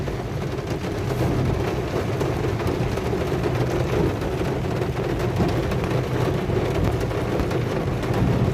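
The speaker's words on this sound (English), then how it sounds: "So much rain." Heavy rain pours down outside and runs off the gutters, a dense, steady rushing wash with a low rumble underneath, unbroken and fairly loud throughout.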